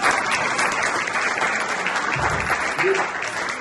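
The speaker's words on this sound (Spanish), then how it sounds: "un aplauso al embajador que está trabajando con nosotros" Sustained applause from a crowd at a lecture event, loud and dense from start to finish, with a few voices faintly mixed in.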